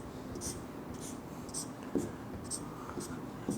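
Pen writing a chemistry question, soft scratchy strokes in a quick irregular rhythm with occasional sharper taps, close and quiet, with no talking.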